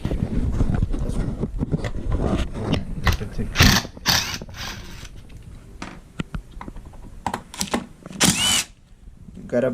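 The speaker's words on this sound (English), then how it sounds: "we are going to need the T30 torque 30, and we got 2 screws here and 2 screws on the back" A ratchet and driver clatter and click up close while T30 Torx screws are backed out of a 2019 Tesla Model S side mirror, bursts of mechanical ticking mixed with someone talking throughout.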